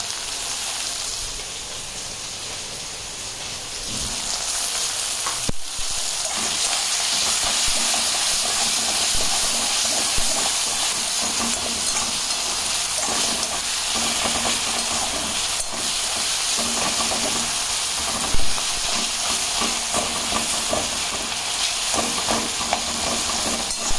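A little garlic dropped into hot oil for Bengali home cooking sizzles and hisses steadily up close, a constant frying crackle with occasional stirring clinks and no talking.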